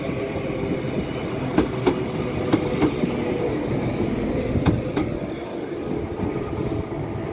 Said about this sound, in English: Here comes 331028 with a northern service to Wigan Northwestern.